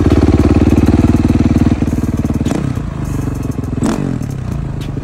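A 2007 Honda CRF 450R dirt bike engine runs loud and close with a steady, rapid single-cylinder thump, then the rhythm loosens and two sharp revving blips cut in before it settles back toward a rougher idle.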